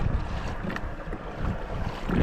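Strong, gusty wind of roughly 20 mph roars against the microphone on an open lake at Temple Bar, Arizona, as a Jackson Big Rig fishing kayak is pedaled head-on into it, with low rumbling buffets and faint water wash throughout.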